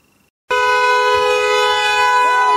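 A loud, sustained air-type horn blares at a crowd gathering in Brussels, starting abruptly after a quiet moment and holding a steady tone.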